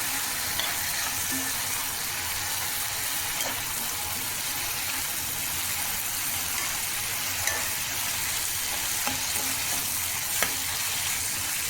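Tomatoes and green chilies fry in a pan with a constant, dense sizzle, occasionally broken by faint clicks of a utensil.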